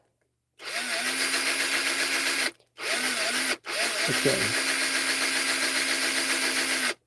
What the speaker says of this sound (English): I'm drilling a hole through the shoulder joint